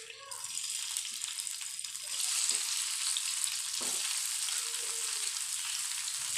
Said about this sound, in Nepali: अब पनिरको फ्राई गरेर यसलाई नि ब्राउन रातो गरेर निकाल्ने हो।